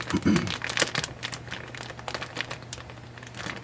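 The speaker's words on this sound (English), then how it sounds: "I usually end up just taping down the bag myself" Plastic mushroom grow bag crinkling and rustling as it is taped down, with irregular close crackles continuing throughout and a brief voice at the start.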